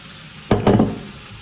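Small pieces of cheap sausage hit a hot frying pan, giving a sudden loud sizzle with a brief clatter that quickly fades to a low hiss.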